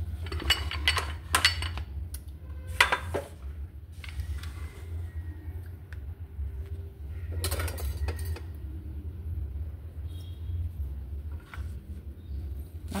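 A knife finely chops enoki mushrooms and other ingredients for a vegetarian fermented-bean dish, giving scattered, sharp tapping clusters over a steady low room hum.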